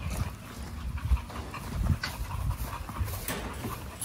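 An American Bully dog released from its cage pants in low, rough bursts close by, with faint shuffling in the background.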